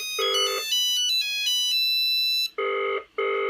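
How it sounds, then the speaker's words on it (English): An old Nokia 2010 mobile phone from 1994 rings out with a loud, clear electronic melody of shifting tones, then short repeated bursts, close and alone with no speech. "So here we are, phone's ringing."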